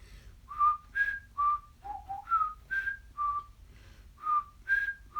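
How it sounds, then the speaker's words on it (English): A person whistles a simple tune of short, clear repeated notes, close and alone, steady in rhythm with brief gaps. "I'm whistling the best I can."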